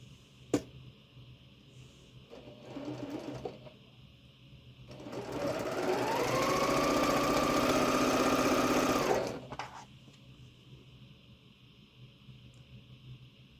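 A sewing machine stitches quilt squares corner to corner, its motor whirring in a steady run of about four seconds after a few short starts, close and clear with no talk.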